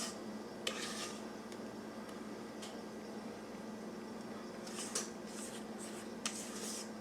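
Spatula scraping pineapple upside down cake batter from a bowl into a pan, faint soft scrapes and a few light clinks against quiet room noise, with no talk.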